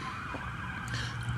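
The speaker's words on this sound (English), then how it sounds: "oh look, you hear police sirens?" Police sirens wail continuously outside as vehicles pass, a steady, moderately loud tone sitting over low road rumble.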